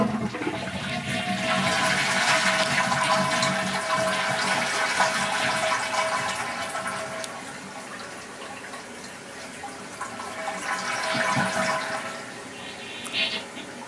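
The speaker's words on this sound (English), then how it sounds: "let's gotta flush this down." A toilet flushes with a loud rush of swirling water that holds steady for several seconds, then eases into gurgling and refilling trickles.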